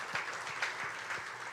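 A church congregation claps at a Sunday service, with steady crowd applause and no one speaking over it.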